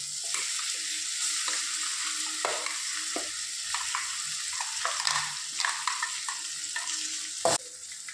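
Steady sizzling of okra frying in a pan, with intermittent scraping and clinks of a utensil stirring, close and continuous.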